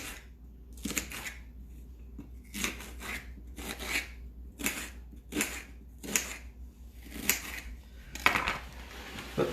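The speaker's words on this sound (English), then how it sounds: "The onion, I slice it in half, make 3 wedges, and cut them small." A knife cuts an onion into small pieces for a cholent, making a series of crisp, separate chopping strokes in uneven bursts, close and fairly clear. No talking is heard.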